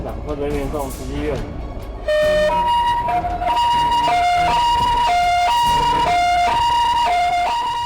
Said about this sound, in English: As the ambulance was approaching the hospital